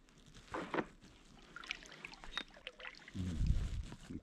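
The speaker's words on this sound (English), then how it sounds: "Kayak paddle" Quiet kayak paddle strokes dip and splash in the water, a few soft, irregular trickles and swishes, with a low, heavier slosh near the end.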